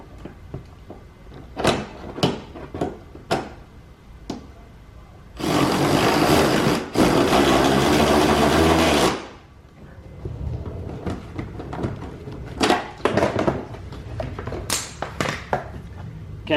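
Power tool driving a number 10 bolt on the front bumper of a 2005-2011 Cadillac STS, a steady whirring burst of about three and a half seconds, close and loud, set among scattered clicks and taps of bumper work.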